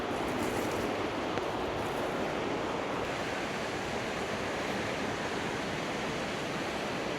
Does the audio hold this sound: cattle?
no